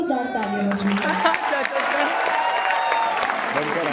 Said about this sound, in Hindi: तो एक बार सबके लिए एक बार जोरदार तालियां बजाएं।